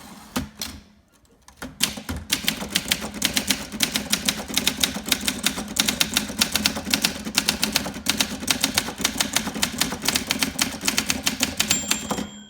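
A 1958 Olympia SM3 manual typewriter clacks away rapidly and steadily, keys striking in a dense rattling rhythm after a brief pause near the start.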